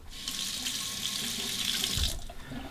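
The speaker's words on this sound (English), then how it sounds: "Let's warm up the razor under the hot water." Hot water runs steadily from a bathroom tap into a sink as a Rockwell 2C safety razor is warmed under it, a close, continuous hiss with no talk over it.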